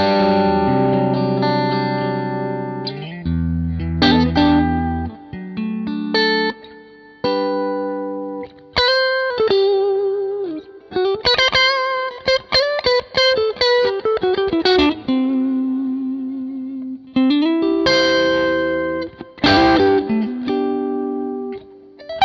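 Electric guitar, a Stratocaster in the position 4 pickup setting, played through a Victory Sheriff 22 amplifier: clean, bright chords and single-note licks with chorus-like shimmer and reverb, loud and close, with no talking.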